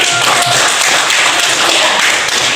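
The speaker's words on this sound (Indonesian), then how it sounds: "Tepuk tangan untuk" A seventh-grade classroom at MTs Al-Hidayah breaks into brief, dense group clapping, loud and close, lasting a couple of seconds with no voices over it.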